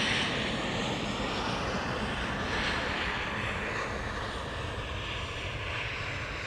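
An Emirates airliner lands at Amsterdam Schiphol Airport, its engines making a loud, steady broadband roar heard from nearby for several seconds, with no voices over it.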